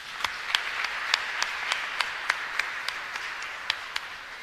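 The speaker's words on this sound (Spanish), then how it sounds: "con un fuerte aplauso" A church congregation at a Catholic Mass claps together, producing a soft, steady spatter of applause with a few sharper claps standing out, heard from a distance and lasting several seconds.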